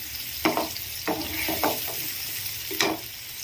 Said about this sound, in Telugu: ఆనియన్ అనేది తొందరగా ఫ్రై కావడం కోసం కొంచెం పసుపుని యాడ్ చేస్తున్నాను.